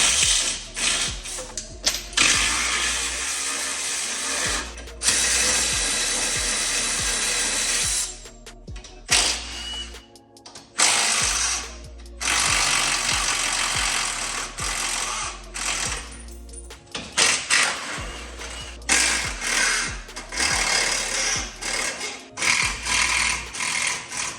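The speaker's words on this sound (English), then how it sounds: "So we're gonna grab an 18 and remove the subframe." A power wrench buzzes and ratchets in long, loud bursts while Corvette C7 subframe bolts are removed with an 18 mm socket in a garage, with short pauses between runs.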